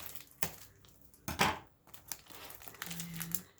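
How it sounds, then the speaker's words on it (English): Tape on a mail package being cut open, heard as a few short crinkling, tearing bursts close up with quiet gaps between them. "just trying to cut tape basically"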